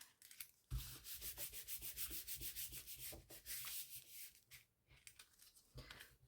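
Close, quiet rubbing of vellum paper being flattened onto a card, heard as a fast run of rhythmic scratchy strokes that pause briefly and then resume, with no voices.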